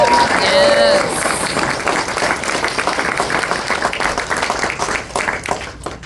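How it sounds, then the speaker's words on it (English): Audience applause at a service industry event, broad steady clapping from a crowd that fills the room and gradually thins, with some voices mixed in near the start. "I think that warrants a round of applause."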